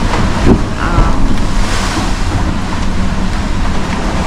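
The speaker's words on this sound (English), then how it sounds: "Waves hitting us on our port side beam" Heavy seas pound against a sailboat's port beam in 35-knot wind on an Indian Ocean crossing, a loud continuous roar of surf and wind buffeting the microphone with no speech.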